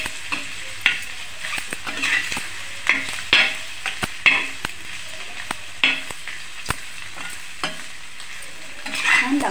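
Masala egg fry cooking with a little oil on a flat iron tawa: a steady close sizzle broken by frequent sharp scrapes and clacks of a spatula as the eggs are turned over and over.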